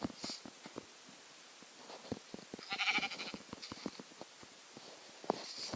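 Sheep bleating in a blocky survival video game, a few short synthetic bleats scattered among soft clicking and footstep-like taps, fairly quiet with no talking.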